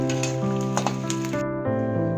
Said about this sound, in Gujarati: આપણે ગુંદર ધીમા તાપે સારી રીતે તળી નાખવાનો એટલે કાચો લાગે નહીં.